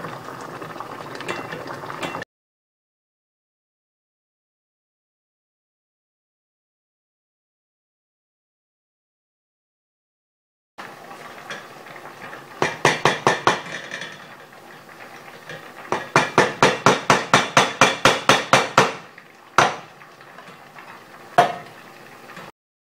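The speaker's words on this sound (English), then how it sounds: "You can see here I'm just stirring it. It helps the melting process." Beeswax melts in a pot while being stirred. Soft bubbling and scraping come in bursts, broken by a long silent gap, then rapid rhythmic clacking strokes of the stirrer against the pot.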